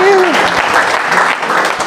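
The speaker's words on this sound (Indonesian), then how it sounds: "Gitu menutup itu tepuk tangan dong" A seated audience at a herbal-products business seminar breaks into clapping, a brief dense patter that overlaps a voice speaking near the start.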